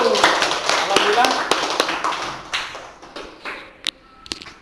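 Children in an Islamic lesson classroom clap their hands together, a burst of dense clapping that thins into a few scattered sharp claps, with voices talking over it.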